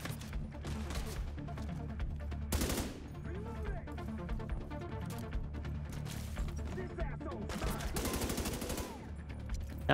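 Rapid bursts of machine gun fire and gunfire in the video game Division 2, dense and loud crackling volleys with game sound effects, a voice speaking faintly underneath.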